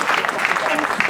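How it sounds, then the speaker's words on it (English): Dense applause from an outdoor crowd at a human rights vigil, steady and fairly loud for a brief burst, with voices mixed into the clapping. "Sevim, give her a big round of applause."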